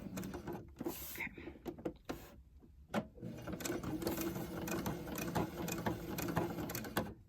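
Sewing machine top stitching a fitted fabric face mask about a quarter inch from the edge, quiet mechanical whirring in short bursts with gaps, near.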